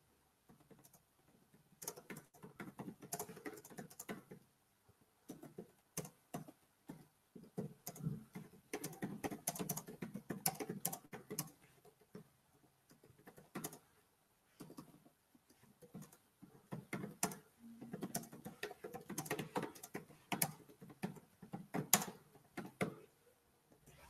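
Computer keyboard typing during a webinar, irregular bursts of soft clicky keystrokes with short pauses, faint and close, continuing for the whole stretch.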